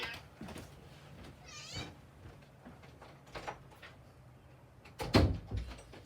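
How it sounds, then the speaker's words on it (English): A cat indoors gives a rising meow in a quiet room, followed by a louder knock or door-like thump near the end; the sounds are close but soft. "I apologize because I've got a cat here"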